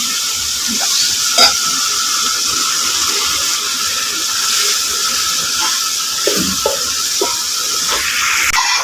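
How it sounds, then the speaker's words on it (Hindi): Kadhi masala sizzles and hisses steadily in hot ghee while being stirred, with soft scraping knocks of the spoon scattered through the continuous frying noise and no talking. "ये देखिए हमारी बुनाई स्टार्ट हो चुकी है, घी ऊपर आ गया है"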